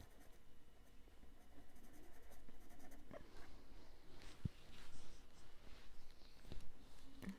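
Graphite pencil shading leaf veins on paper, soft scratchy strokes heard close but faint, with back-and-forth scribbling growing busier toward the end and a few small taps.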